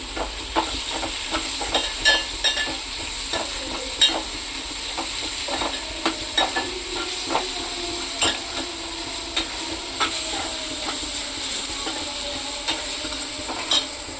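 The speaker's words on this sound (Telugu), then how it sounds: "ఇప్పుడు ఇందులో కొద్దిగా కరివేపాకు, 4 పచ్చిమిర్చి వేసుకుని వేపుకుందండి" Curry leaves and green chillies fry in hot oil for a gonongura mutton curry, a steady close sizzle with scattered crackles and pops running throughout, no voices.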